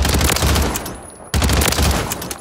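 A BAL-27 rifle firing full-auto in Call of Duty: Modern Warfare III, with dense, rapid bursts of gunfire that break off briefly and then resume, loud and close.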